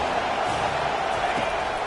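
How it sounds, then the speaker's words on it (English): Crowd noise in an American football video game swells on a third-down defensive stand, a steady broadband roar of a stadium crowd filling the whole moment without a break. "Decibels rising as the crowd gets behind this defense on 3rd down."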